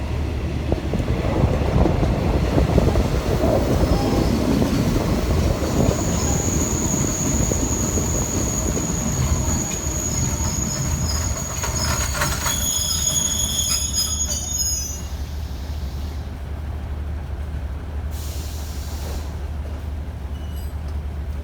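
A passenger train rumbles steadily and slows, its wheels letting out a long high squeal with metallic screeches as it comes to a halt at Khlong Bang Tan station in Thailand.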